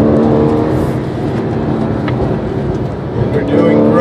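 A Porsche accelerates on a driving course, its engine a loud, steady drone from inside the car, while an instructor talks over it throughout.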